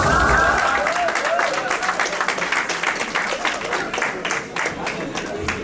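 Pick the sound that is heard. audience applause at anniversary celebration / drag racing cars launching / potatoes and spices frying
audience applause at anniversary celebration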